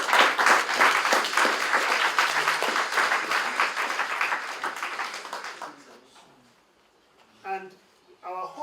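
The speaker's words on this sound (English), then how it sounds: "let's give a round of applause to you guys also" An audience at a World Book and Copyright Day event claps in sustained, dense applause that fades out after several seconds, followed by a speaking voice.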